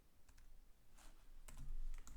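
Keys tapped on a computer keyboard while a command is typed, a few soft scattered clicks with a denser burst near the end, close and quiet with no talking.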